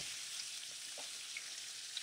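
Bacon frying on a skillet, a faint, steady hiss of sizzling fat with an occasional small pop, heard alone without voices.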